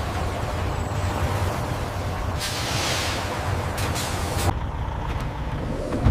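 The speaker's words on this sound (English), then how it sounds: "Trucks arrive ready for transport." Trucks arriving at a pistachio factory loading area, with a low steady engine rumble and a broad hissing burst of air brakes partway through, fairly far off.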